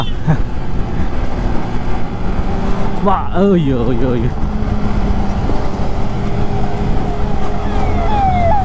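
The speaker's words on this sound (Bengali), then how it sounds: "অ্যাম্বুলেন্স" An ambulance siren passes on a rough road, its wailing tone rising briefly and clearly above steady traffic and wind noise before fading back into the road roar.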